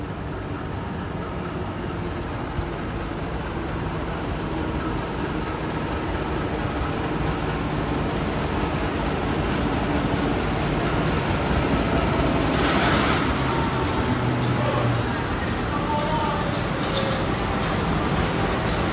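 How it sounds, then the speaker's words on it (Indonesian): An economy-class Majapahit train rolls along the Blitar–Malang line, heard from inside the carriage as a quiet, steady rumble with faint rhythmic rail clicks throughout. "Dan kereta ini nggak gembludak, lumayan senyap."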